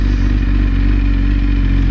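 A BMW S1000RR motorcycle rides along with a loud, close, steady engine drone and heavy wind rumble, some light clattering mixed in, with no voices.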